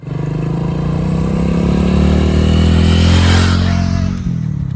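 A motorcycle engine runs loud and close throughout, its steady drone rising and falling slightly as it revs, then dropping briefly near the end before picking up again.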